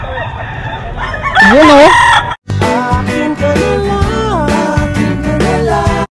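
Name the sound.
gamecock roosters crowing and clucking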